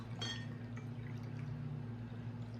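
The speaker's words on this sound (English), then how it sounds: "So we're gonna add some of that water here." Water poured into a green herbal bath mixture for a ritual road-opener bath, a soft, steady pour close by with a faint splash at the start, over a low background hum.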